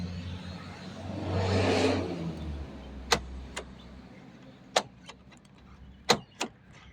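A BMW X5 idles faintly, then a few sharp clicks and clunks of the door lock actuator, triggered by the key fob, sound in quick succession, close and crisp against the low hum.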